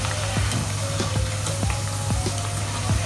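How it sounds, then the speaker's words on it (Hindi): Potatoes frying in oil over a high flame for an aloo baingan wadi dish, giving steady close sizzling with repeated soft stirring scrapes throughout, a low hum underneath and no talk. "देखिए आपके आलूओं को फ्राई होते हुए लगभग 2 मिनट हो चुके हैं।"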